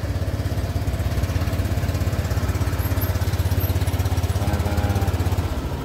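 A motorcycle engine warms up at idle, a close, steady low-pitched throbbing with a fast even pulse that holds throughout without revving.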